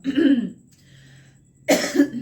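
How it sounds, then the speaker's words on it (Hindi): A woman coughs close to the microphone, two bursts of harsh coughing separated by a short pause, with no other sound around them. "मुझे फ़ौरन ही खांसी आनी स्टार्ट हो जाती है"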